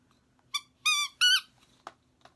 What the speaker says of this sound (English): Small, squeak, and light ball.